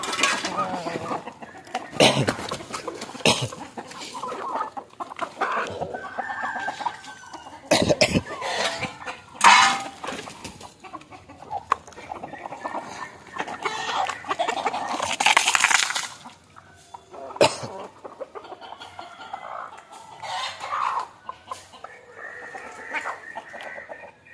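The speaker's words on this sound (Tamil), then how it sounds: "கோழியை நான் திறந்து விட்டுட்டேன்" Country chickens cluck and squawk irregularly after being let out, close by and moderately loud, with scattered calls throughout.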